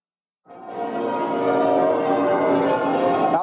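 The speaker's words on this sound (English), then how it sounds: "as the bells peal the news that the wedding is over and the celebration has begun" Church bells pealing outside St. Paul's Cathedral in London after the 1981 royal wedding, a dense continuous ringing that starts abruptly and stays loud and full.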